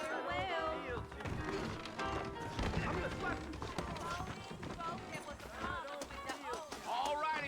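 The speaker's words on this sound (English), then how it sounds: "I got the horses saddled up and ready out front." Saddled horses move along with rhythmic hoofbeats in the video game Red Dead Redemption 2. The clopping runs steadily beneath continuous dialogue and background music.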